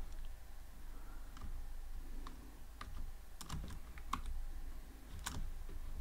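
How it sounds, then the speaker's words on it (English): Python code being typed on a computer keyboard: scattered, soft keystroke clicks in short irregular bursts, close but quiet over a steady background hum, with no speech. "And here I'll type print greeting"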